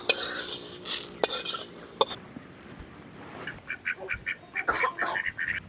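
Fenugreek seeds being roasted in a pan, a spoon stirring and scraping with soft sizzling and light clinks, close and fairly quiet, in irregular bursts.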